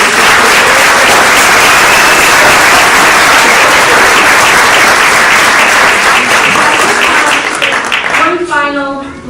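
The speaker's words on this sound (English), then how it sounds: "one last round of applause for our honorees." A large audience at a Hispanic Heritage Month celebration in Nassau County gives honorees a sustained round of applause, dense and loud throughout and thinning out near the end.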